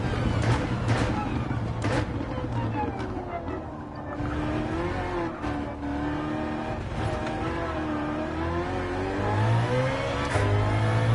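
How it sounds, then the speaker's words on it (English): Race cars running through pit lane in the racing game Gran Turismo 7, a steady engine drone with shifting revs that holds for the whole stretch, loud and close, with a voice talking over it. "Oh, cars in pit lane."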